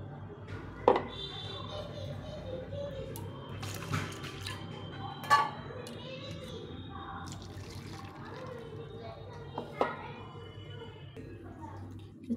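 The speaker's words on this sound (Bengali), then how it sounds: "সর্ষেটা এখানে ভালো করে ধুয়ে নেব।" Mustard seeds being washed in water in a kitchen, with soft sloshing and occasional sharper splashes and clinks against a bowl, close but fairly quiet under a low room hum.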